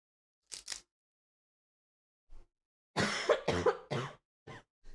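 A person coughs repeatedly, close and fairly loud: a short pair of coughs, one faint cough, then a burst of several harsh coughs in quick succession, with silence between.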